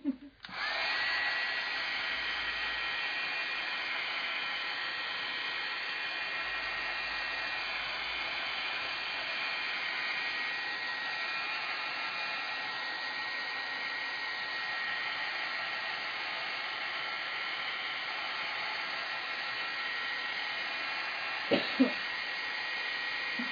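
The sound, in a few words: dryer drying scrapbook craft work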